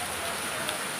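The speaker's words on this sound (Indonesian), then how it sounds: "Aduh turun hujan teman-teman tuh besar tuh." Heavy rain pours down in a steady, dense hiss that stays loud and unbroken throughout the short moment, close by and with no other sounds standing out.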